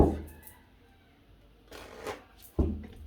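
Two short bursts of cards being shuffled, one at the start and another near the end, with quiet handling noise in between.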